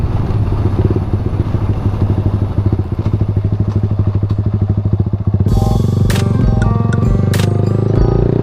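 Stock Yamaha MX King motorcycle on a top speed run with an aracer mini x unit, engine pulsing rapidly and loudly close to the mic, then revving higher with gear-change shifts in pitch.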